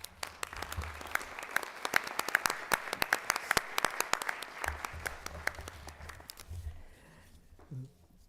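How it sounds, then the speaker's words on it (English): A school board meeting audience claps for an honoree and committee, crisp individual claps from a modest crowd in a room, sustained for about six seconds before fading into quiet shuffling. "Can we give her and the committee a big round of applause?"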